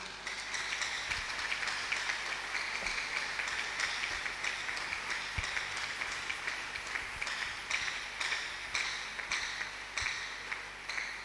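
A church congregation claps in a steady rhythmic beat throughout, a dense, moderately distant wash of hands during a worship service.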